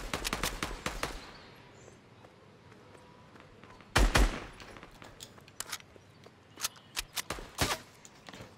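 Machine pistol or SMG fire in Fortnite: bursts of rapid, sharp shots, with a tight cluster at the start and scattered single and double cracks later, some loud and close, others fainter.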